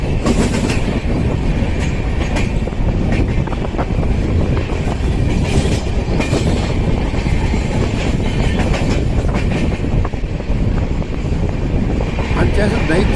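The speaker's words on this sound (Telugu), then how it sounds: "కొవ్వూరుకు దగ్గరలో కూడా మన ట్రైన్ వచ్చేసింది" A passenger train runs on rails near Kovvur, with loud continuous rumble, wheel clatter and wind noise heard close from aboard, steady throughout.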